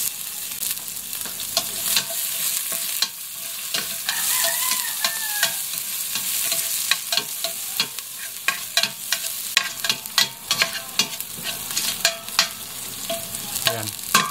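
Onions sizzle steadily in a hot pan while a utensil scrapes and stirs them in a string of sharp clicks and taps, close and loud with no talking.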